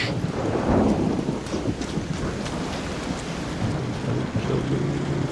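Thunderstorm ambience on a lightning level in a video game: a loud, continuous rumble of thunder mixed with rain and wind, swelling early and then rolling on steadily without talk.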